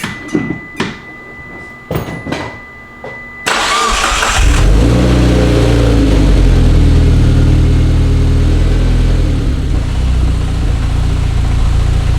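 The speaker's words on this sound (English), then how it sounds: "Let's start the car." A Mitsubishi Evo X with a freshly fitted fuel relay kit cranks briefly after a few clicks, catches and settles into a steady, close, loud idle with a low rumble.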